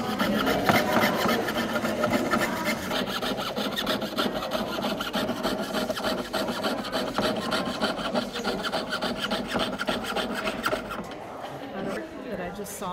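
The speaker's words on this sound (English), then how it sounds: "And then I literally just start sawing it out by hand." Continuous rapid back-and-forth hand sawing through metal, close and rasping, for most of the clip before slowing to a few final strokes.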